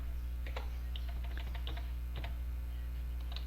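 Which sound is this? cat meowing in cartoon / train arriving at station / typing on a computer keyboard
typing on a computer keyboard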